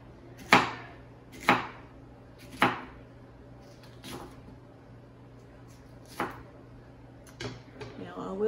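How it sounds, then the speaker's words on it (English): Knife slicing through jalapeño peppers, starting from the small end after the stem is topped off, on a cutting board: several sharp, separate chopping knocks spaced about a second apart, close and distinct, with a quiet pause midway. "we start topping the stem off the pepper, and I like to start from the small end. All you're doing is slicing."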